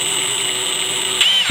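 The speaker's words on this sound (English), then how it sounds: "having a drill with a variable speed trigger so you can tighten it just so" A cordless drill with a variable speed trigger whirs steadily at high speed driving a pocket hole screw, then its pitch shifts briefly as the screw seats, close and loud.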